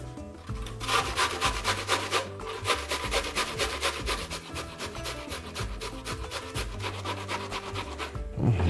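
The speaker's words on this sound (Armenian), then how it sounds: "Մեկ միջին չափի սոխը քերում ենք մանր անցքերով։" A medium onion being grated on the fine holes of a grater, a close, steady back-and-forth rasping in regular strokes that runs without pause for several seconds, with no voices.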